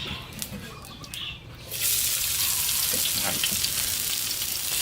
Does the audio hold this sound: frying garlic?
yes